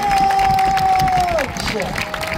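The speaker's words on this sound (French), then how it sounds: "On peut applaudir encore une fois bien fort notre ami Mike and" Crowd at a FISE Xperience action-sports event in Le Havre applauding and cheering a rider, a dense, loud wash of clapping under a sustained whistle-like tone and announcer talk.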